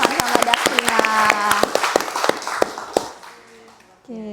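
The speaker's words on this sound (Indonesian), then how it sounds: "Tepuk tangannya dulu dong buat Evan sama Dastina" A scattering of sharp hand claps on a school geography talk show, irregular and fairly close, mixed in with ongoing talking and fading out near the end.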